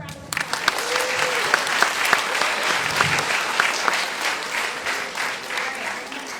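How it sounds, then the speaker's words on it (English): An audience at a water resources art and poetry celebration applauds a student, steady dense clapping that carries on for several seconds with scattered voices underneath. "Give her a round of applause."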